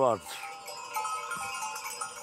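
Sheep of Bursa in a mountain pasture, one close bleat at the start followed by faint bells and further farm-animal sounds in the background.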